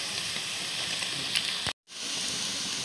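Boiled chow mein noodles drop into a hot pan with chopped ginger, garlic and green chilli, giving a steady close sizzle that cuts out briefly, then resumes.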